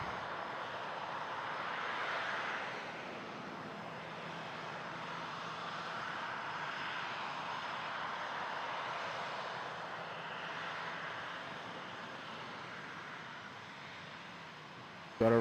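Airplane engines roaring at Toronto Pearson airport, a sustained broad jet rumble that swells and eases at a moderate distance, steady for the whole stretch before an abrupt cut at the end.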